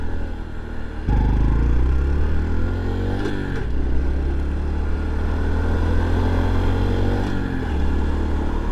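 A 2023 Trail 125 semi-automatic motorcycle engine hums loudly and steadily while riding, rising in pitch, then dipping briefly as gears shift before climbing again.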